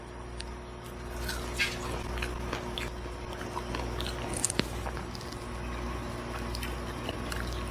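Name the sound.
crunchy chewing of insects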